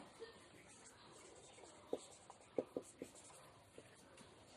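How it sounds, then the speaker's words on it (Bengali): Pen or chalk writing during a lesson on Vedic civilization, faint scratching strokes with a few quick distinct taps clustered in the middle, close but quiet. "লিখছি আমি নিচে"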